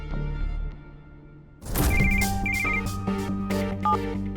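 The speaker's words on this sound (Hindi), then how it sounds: "घंटी चल रही।" A low hum gives way to a phone ringtone, a repeating electronic melody of beeping tones that plays on steadily and fairly clearly.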